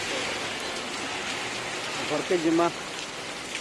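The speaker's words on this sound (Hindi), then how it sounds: "झमाझम वर्षा होती" Heavy rain pours down in Bolangir with a loud, constant hiss, while someone speaks briefly under the downpour near the end.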